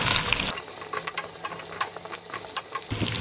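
Whole cumin seeds sizzle in hot oil for a mutton karahi, a crackling fry with scattered small pops and a brief stirring clatter at the start, moderately close and fairly quiet.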